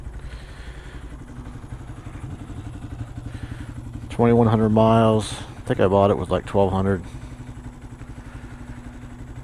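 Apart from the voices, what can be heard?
Honda Grom 2014 motorcycle engine with Taiga exhaust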